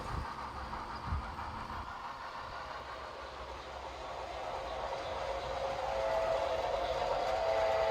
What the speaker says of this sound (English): we have to wait for a hotshot PFE train to pass us.